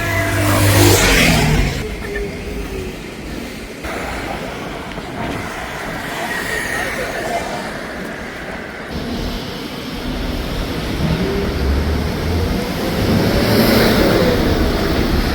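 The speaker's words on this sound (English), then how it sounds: "There we go, this is the number 12 bus." Riding aboard the number 12 city bus in Cape Verde, a loud engine rumble and road noise rise and fall as it accelerates, shifts and slows, with rattles and passing traffic throughout.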